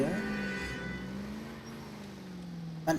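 A car engine hums steadily at low pitch as the car drives in a detective video game, a smooth sustained drone that rises and falls slightly, with a brief knock near the end.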